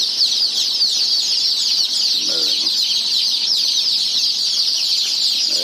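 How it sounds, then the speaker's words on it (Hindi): Constant high-pitched chirping from many day-old chicks running around, a dense continuous chorus filling the space, with a faint low voice briefly underneath. "ये चूजे देखो चारों तरफ दौड़ लगाते हुए"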